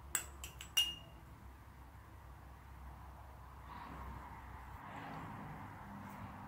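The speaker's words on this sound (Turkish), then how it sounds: "Üzerine bir tatlı kaşığı da bal alacağım." Spoon clinking against a glass bowl while honey is added onto chopped garlic; a few sharp, close clinks at the start, then quiet kitchen background with faint rustling.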